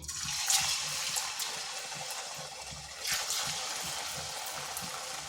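Square pieces of semolina sweet frying in hot oil, a steady close sizzling hiss with a couple of brief louder bursts as the pieces settle in.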